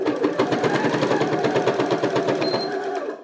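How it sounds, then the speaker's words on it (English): A sewing machine stitches a mask template to the end of a seam, its rapid rhythmic needle pulses loud and close for a few seconds before stopping, with a brief high beep near the end. "I'm going to be sewing it off to the end"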